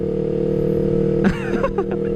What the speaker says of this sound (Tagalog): Bulahaw kasi masyado guys. Bulahaw ang tambutso.